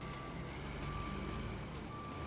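Delivery vehicle driving through a city in a video game, a steady engine hum with a faint high beeping tone and a brief bright hiss partway through.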